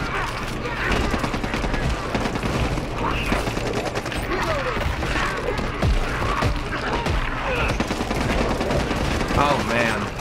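Gunfire from the game Back 4 Blood, dense rapid shots and bursts crackling nearly nonstop for ten seconds with booms and mechanical clatter, under players talking.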